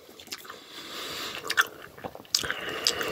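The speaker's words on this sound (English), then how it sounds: "That green one was, like, pretty chewy." Freeze-dried Skittles chewed close to the mic, faint crisp bites and crunchy, squishy chewing in a few irregular bursts.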